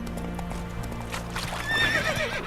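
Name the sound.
horse Roach galloping and neighing in Witcher 3 video game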